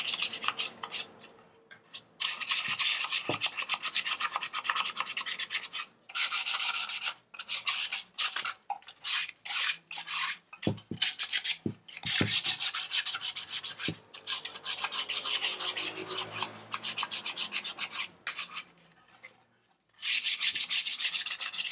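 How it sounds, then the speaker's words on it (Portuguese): Sandpaper of 220 grit rubbing across an MDF tea box, a close, steady scratchy hiss in repeated strokes with brief pauses between passes. "eu gosto da lixa 220. Então a gente vai passando aqui."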